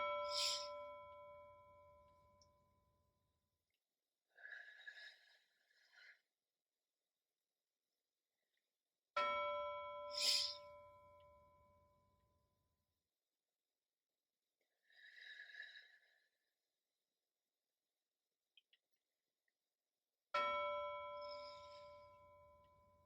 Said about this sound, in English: You can listen for a bell, and once you hear it ring